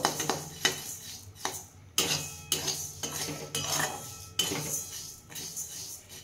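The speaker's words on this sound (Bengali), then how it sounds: "ডালটা বেশি ভাজবো না, হালকা করেই ভাজবো।" Moong dal is lightly dry-roasted in a pan, with a spoon repeatedly scraping and knocking against the metal in an uneven rhythm, close and moderately loud over a faint background hiss.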